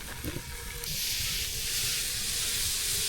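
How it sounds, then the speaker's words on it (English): A steady hissing, bubbling rush of water boiling in a pot at a campsite rises after a brief quieter moment and continues evenly, close and fairly loud. "We're starting to get a little bit of boiling water in there right now."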